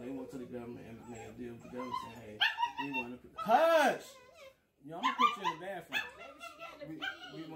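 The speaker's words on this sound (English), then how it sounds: "That's the dog." A dog indoors whimpers and yips in short bursts, with a high whining cry in the middle, while someone talks over and between the sounds.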